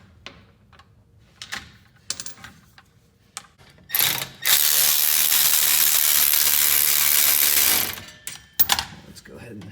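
A ratchet loosening V-band clamps on the exhaust mid-pipe of a Nissan 240SX: a few short clicking bursts, then a long, loud continuous ratcheting run of about four seconds, followed by more brief clicks, near and alone.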